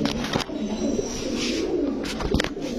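Pigeons coo steadily in a low, continuous murmur, with a few sharp flutters and clicks from nearby birds.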